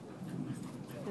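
Dogs roughhousing in play, with short whimpers and yips mixed into a brief stretch of people talking nearby.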